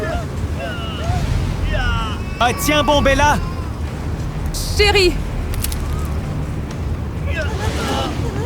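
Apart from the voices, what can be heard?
strong wind blowing, animation sound effect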